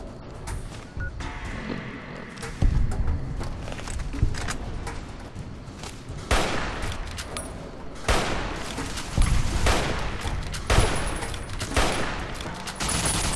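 Bursts of gunfire in the video game Fallout: New Vegas, sharp repeated volleys of shots at irregular intervals, loud and close, with no talk.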